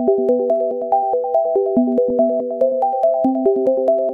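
The Sign Solo preset from Arp Bank 02 on the Blue 2 synth, dry and without effects. It plays a quick, steady arpeggio of plucky, bright synth notes cycling in a repeating pattern, clear and alone with no voices.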